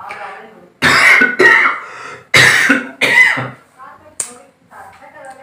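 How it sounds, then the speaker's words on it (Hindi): Several loud, harsh coughs close to the mic in two bursts, followed by quieter throat clearing and a few soft vocal sounds. "आपको बेल आइकन बोलने के चक्कर में मेरे को खांसी भी आने लग गई है"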